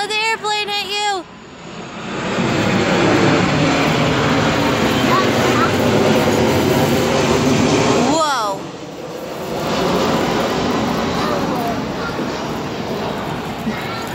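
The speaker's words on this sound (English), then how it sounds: "Don't let the airplane hit you." A loud, steady airplane roar dominates while a person climbs high, rising and dipping briefly before continuing, with people talking and a voice over the engine noise.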